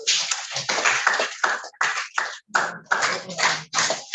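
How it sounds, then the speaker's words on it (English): A small class in a robotics training session claps together, close and loud, in uneven bursts of hands with brief gaps between rounds. "So I think you deserve a round of applause."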